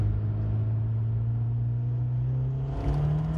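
A Nissan Pulsar GTI-R RNN14 2.0 turbo 4WD pulls hard from inside the cabin, a loud droning engine note that holds steady and then climbs as it revs higher, with no voices.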